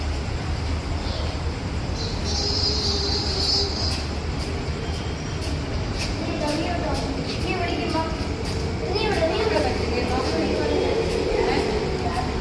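Ambience at a railway station in Thiruvananthapuram: a steady rumble of trains and platform bustle, with people chattering nearby and occasional sharp clanks and squeals cutting through.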